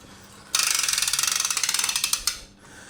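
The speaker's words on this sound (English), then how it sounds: "we're going to use the crank, so I'm going to use the crank to drop it down" Rapid ratcheting clicks from the crank of a MoJack Pro lift lowering a 2024 Bad Boy Renegade mower, a close, steady run of sharp pawl clicks lasting about two seconds before stopping.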